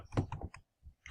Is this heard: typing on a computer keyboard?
yes